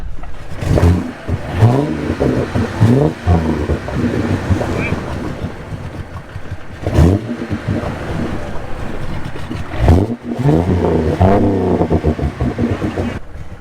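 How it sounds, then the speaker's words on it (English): A Jeep engine revs repeatedly in a mud pit with its exhaust fully underwater, gurgling and bubbling, rising and falling in surges amid wind buffeting on the microphone. "And now my exhaust is fully underwater. You guys can hear it."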